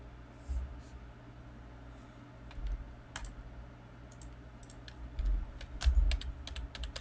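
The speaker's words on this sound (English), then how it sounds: "Just clicking a ton of buttons." Computer keyboard keys and buttons click in scattered, uneven bursts close by, over a steady low hum and faint background murmur.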